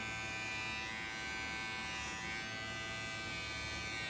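Electric clippers buzz steadily and continuously at close range while giving a schnauzer puppy a sanitary trim, the motor hum unbroken throughout with no voices.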